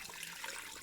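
Water pours steadily into a gumbo pot holding chicken thighs, legs and bay leaf, a soft continuous splashing that stays faint and even throughout.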